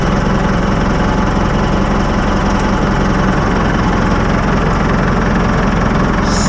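A tractor engine runs steadily with its PTO engaged, driving fertilizer distributors; a loud, continuous low diesel drone with a mechanical rattle holds throughout, with no talking.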